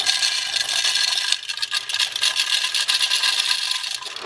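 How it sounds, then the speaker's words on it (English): Coffee beans from Portugal pour into a coffee bean grinder, a bright rattling, rustling cascade of hard beans against the container, close and fairly loud, briefly pausing then continuing with scraping clatter. "So I'm gonna put them in my coffee bean grinder."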